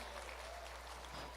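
Faint, steady applause from a church congregation for children, a soft continuous patter of clapping heard at a distance.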